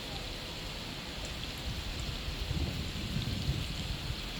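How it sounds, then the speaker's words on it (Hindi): Heavy rain pouring steadily outdoors, a dense continuous hiss of drops on surfaces at moderate distance, with no voices. "बाहर आई हूँ तो ये इतनी तेज़ बारिश हो रही थी।"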